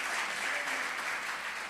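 A church congregation applauds during a worship service, a dense, steady wash of clapping from many hands that lasts the whole short stretch.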